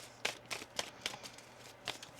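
A tarot card deck is shuffled quietly, giving a rhythmic series of soft riffling snaps at close range.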